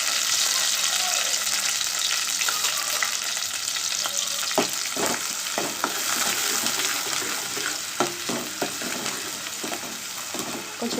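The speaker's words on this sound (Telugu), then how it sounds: "కొంచెం బాగా వేగాలి." Onion, curry leaves and green chillies fry in hot oil for a brinjal masala curry, giving a loud, continuous close-up sizzle marked by scattered pops and stirring scrapes throughout.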